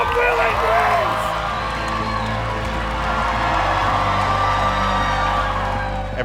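A studio audience at a Will & Grace show taping whoops, cheers and claps in a loud, sustained roar filling the room.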